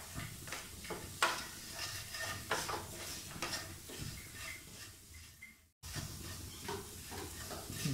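A spoon stirring and scraping paneer masala in a pan, with Kashmiri red chilli powder and salt, over a steady background sizzle of frying, with irregular clinks and scrapes and a brief dropout near the end.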